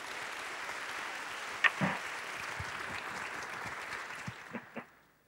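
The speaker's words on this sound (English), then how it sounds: "Can I ask you to put your hands together and welcome a gentleman" An audience at the Creative Innovation 2010 conference claps to welcome a speaker to the stage, producing a steady, moderately distant wash of applause that thins out toward the end, with no voices over it.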